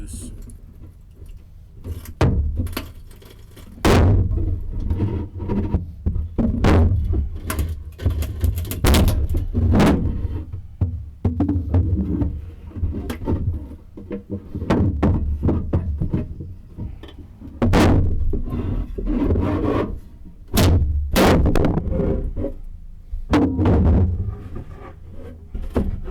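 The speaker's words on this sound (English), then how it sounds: "This is me prying on it to break it loose." Wood is pried loose during demolition work inside a DIY backyard boat kit, with irregular creaks, knocks and sharp cracking bangs over low rumbling effort. The sounds come close and in bursts across the stretch, with a voice briefly audible.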